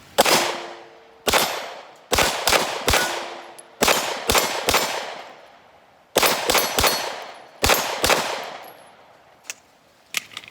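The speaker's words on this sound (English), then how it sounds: "I hope you can see all the ones that I'm shooting at." Loud, close gunshots from a CZ Scorpion pistol fed by a Magpul magazine, fired outdoors at targets in quick strings of two to four shots with short pauses and ringing decays between them.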